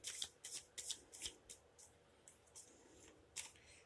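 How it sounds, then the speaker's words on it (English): Tarot cards are shuffled in a series of quick riffling bursts, close and fairly quiet, with short pauses between them. "I just go a quick shuffle and then a cut."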